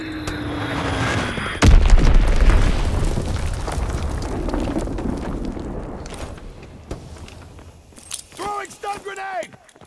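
Heavy Azon bomb blasts rip through a Battlefield-style game battle, a loud booming impact near the start rolling into a long rumbling decay, with scattered crackles and clanks later as a voice breaks in near the end.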